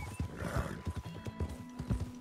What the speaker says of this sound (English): You are not Silver, the horse I've spent the entire game riding and bonding with.